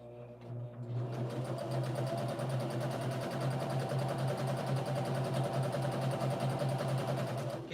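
A sewing machine runs steadily up close, stitching two quilt panels held together with clips, a fast even whirring drone that carries on without pause after a short start.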